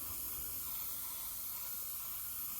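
Steady, unbroken hiss of a spray paint can coating a helmet visor, close and even in level for the whole stretch, with no voices.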